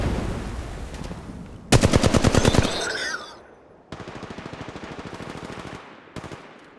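Rapid automatic gunfire in Apex Legends Mobile, a loud dense burst of shots followed by a pause and then longer strings of evenly spaced rounds, with no talk.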